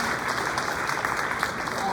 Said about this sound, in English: Let's give a round of applause to Elgin History Museum.